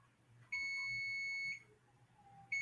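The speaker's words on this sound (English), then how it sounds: "That was a timer on the stove." A faint electronic stove timer gives a sustained high beep lasting about a second, then a second beep starts after a short quiet gap.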